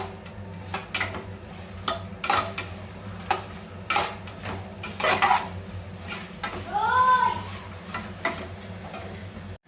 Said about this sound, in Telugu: ఇవన్నీ మంచిగా ఫ్రై చేసుకోవాలి